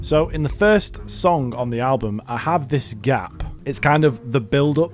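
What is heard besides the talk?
None of the usual background noises is heard.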